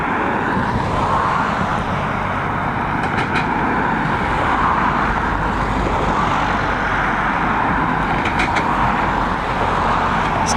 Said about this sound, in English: We've got this Aer Lingus operated Airbus A330 coming in from Chicago.